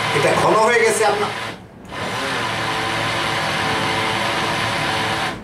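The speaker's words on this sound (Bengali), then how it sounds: "ব্লেন্ডারের শব্দে বুঝতে পারতেছেন কিনা জানি না, ব্লেন্ডারে একটু কষ্ট হচ্ছে এটাকে ব্লেন্ড করতে।" A kitchen blender labors through thick homemade eggless mayonnaise, a loud, steady whirring drone that briefly cuts out before resuming strained and continuous.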